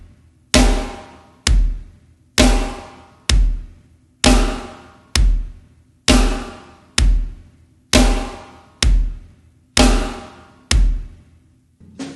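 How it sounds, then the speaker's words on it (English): Drum struck in steady half notes during a drum lesson, about a dozen evenly spaced hits with ringing decays, loud and close with no talking. "So half notes would be this."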